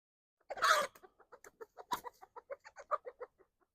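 A small flock of backyard chickens, including a black hen newly introduced, clucks in a quick run of short, evenly spaced notes after one louder squawk near the start, fairly close and without talk.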